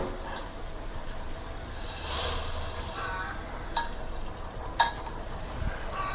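Vermicelli is stirred in boiling water in a pot, with soft steady bubbling, swishing strokes and a couple of sharp clinks against the metal.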